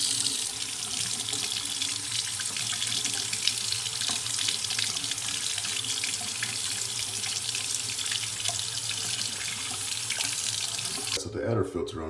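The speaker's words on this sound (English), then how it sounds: "I'm just gonna turn on the faucet, and then I'm just gonna hold the Keurig under the water." Water from a kitchen faucet pours steadily as a Keurig K Supreme coffee maker is held under the stream to rinse it. The rushing hiss is loud and continuous and cuts off near the end.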